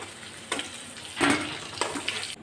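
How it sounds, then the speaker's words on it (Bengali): Pointed gourds frying in oil with salt and turmeric, a steady close sizzle with a few louder crackling bursts, no talk. "এখন পটলগুলো খুব ভালো করে ভেজে নেব।"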